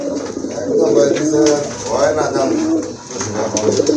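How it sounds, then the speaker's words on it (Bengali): Pigeons coo in low, rolling bursts close by at a pigeon sale, mixed with people talking in the background. "বাইরেরটা হচ্ছে আপনার নর কবুতর আর শর্ট ছোটের কবুতর।"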